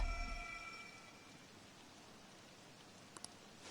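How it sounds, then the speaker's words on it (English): Rain falls quietly in the video game Persona 5 Royal as a soft, steady hiss, with a fading tone at the start and two brief clicks near the end. "This rain ain't too bad."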